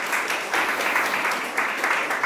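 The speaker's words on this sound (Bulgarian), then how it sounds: "Аплодисменти за Грег, дами и господа." An audience at a lecture event on the brain applauds a guest taking the stage, with a dense, even wash of clapping that holds steady and fairly loud.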